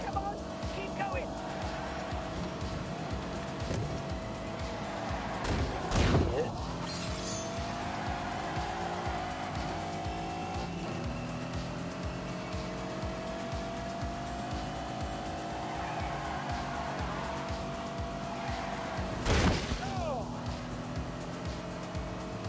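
Lamborghini racing in The Grand Tour Game, with a steady loud engine drone, tire squeal and two sharp crash impacts about thirteen seconds apart, while a person talks over it throughout.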